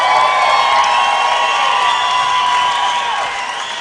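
A large crowd at a live MMA fight event cheers and applauds loudly and continuously, a dense roar that fades slightly toward the end.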